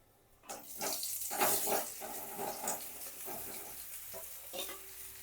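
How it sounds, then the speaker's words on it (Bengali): Mango pieces hit hot oil and fry with a loud crackling sizzle, followed by repeated stirring scrapes in the pan, close and with no talking. "আমটা দিয়ে ভালো করে একটু তেলের সাথে ভেজে নেব আমটাকে।"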